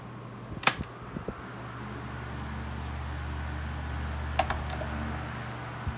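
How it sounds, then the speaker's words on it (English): Steady whir of a 1970s Sears oscillating desk fan with green blades running on high speed, a continuous close hum with faint low drone and a few brief clicks. "I'm gonna go back high, and then I'm gonna put it on oscillate."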